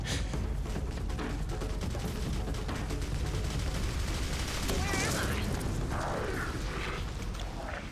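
Sustained rapid gunfire from Clive Barker's Jericho rattles almost without pause, dense and loud throughout, with mechanical clanks mixed in and a player's voice chattering over the shooting.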